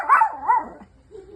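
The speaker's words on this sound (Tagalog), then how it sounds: "O, sige na, tahol." A dog gives two short, close barks that slide into a softer whiny yelp, with a brief pause between.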